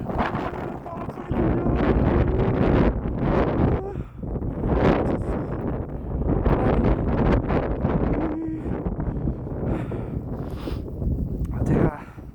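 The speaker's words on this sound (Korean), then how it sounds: "바람 소리" Strong, cold storm wind buffets the microphone during a walk home after work, roaring in long, loud, gusting waves, with a voice partly audible underneath.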